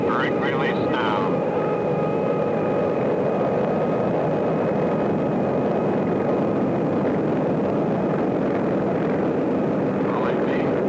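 North American XB-70 jet engines at full power during takeoff brake release, a loud continuous broadband roar with steady high tones, constant throughout with faint radio voices underneath.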